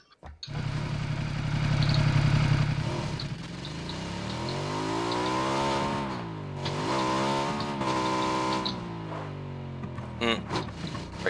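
Car engine in the battle royale game PUBG, steadily revving and shifting pitch as the vehicle is driven, loud and continuous with brief gaps near the end.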